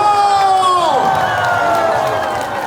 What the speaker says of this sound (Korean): 준비 시작 5 4 3 2 1 박수!